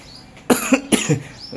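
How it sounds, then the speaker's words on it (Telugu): Two sharp coughs close to the listener, the second following quickly after the first, with a faint rasp trailing after. "దగ్గు కూడా వస్తుంది"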